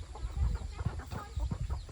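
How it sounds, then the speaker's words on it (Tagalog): Chickens cluck softly and repeatedly nearby, a busy run of short calls against a faint outdoor background. "Yan yung aking alagang manok."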